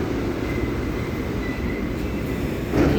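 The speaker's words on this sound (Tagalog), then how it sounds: "We have to take this train and then we have to change another one." A long train rumbles steadily through a station, a continuous low roar of rail cars with a faint high squeal, swelling slightly louder toward the end.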